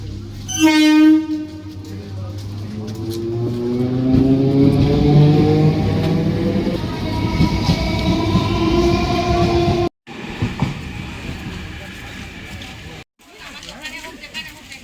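Train horn blasts and a train rumbles past at a railway station, loud and close, with the horn's falling tone and steady clatter of railcars, noise continuing after brief cuts.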